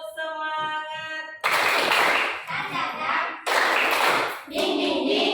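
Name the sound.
rhythmic group clapping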